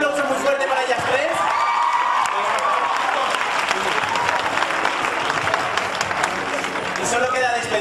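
Sustained loud applause from a fan event crowd in Barcelona, thick clapping with scattered cheers and whoops filling the room from start to finish.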